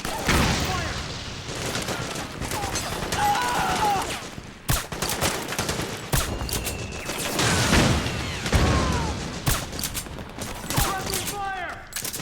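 Rapid gunfire rattles through a Metal Gear Solid 4 battle, with dense bursts of close shots and heavy thumps repeating throughout while soldiers shout over the fighting.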